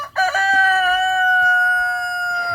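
A rooster crows once, loud and close, in a backyard chicken aviary, a long drawn-out harmonic call following a few short clucks.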